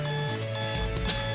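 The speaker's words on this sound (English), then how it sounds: "you can see the alarm goes off, the light goes off" Alarm tone from a MiniFinder Pico GPS tracker triggered by a geofence, repeated beeping electronic chirps in short bursts, close and fairly loud over background noise.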